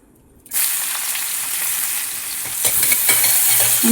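Onions dropped into hot oil in a pan for banana chicken, bursting into a sudden loud, hissing sizzle after a quiet start, then frying steadily with stirring clatter close by.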